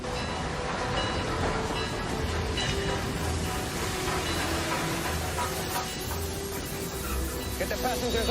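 Train rumbling steadily along its rails during a Cristeros raid, a continuous loud broadband roar with clanking and hiss, and voices talking over it throughout.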